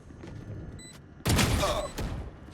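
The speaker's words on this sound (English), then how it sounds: "Some shots exchanged." Gunfire exchanged during a round of Neon in a competitive Valorant esports match, a sudden loud burst of rapid shots after a quieter stretch, followed by a further short volley.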